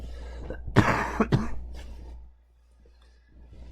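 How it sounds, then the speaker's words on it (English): Two quick, harsh coughs close by, followed by a soft breath and then quiet. "I'm going to cough again."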